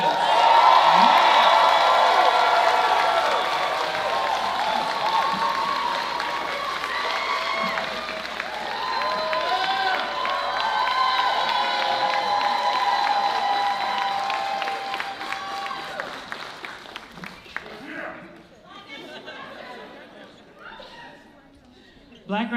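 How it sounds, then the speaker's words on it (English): Audience at a Black graduation ceremony at the Claremont Colleges applauding and cheering for the graduates, a loud sustained wash of clapping with whoops that fades out toward the end. "one more round of applause for our graduates"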